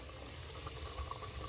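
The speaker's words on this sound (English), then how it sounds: "there she is frying" Fish frying in hot grease, a steady close crackle and sizzle with scattered small pops, no voices.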